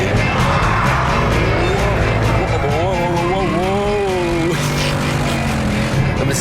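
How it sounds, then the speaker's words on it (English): A Mercedes C63 accelerating hard on a track with traction control off, its engine note rising in a loud, rough grunt and sweeping upward through a gear, up close and steady throughout. "This brilliant grunting engine fires me forwards"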